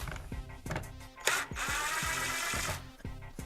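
A power screwdriver removes a tail light screw on a Lexus IS 250/350/F during a VLAND tail light install, with short ratcheting whirs in a close, steady burst.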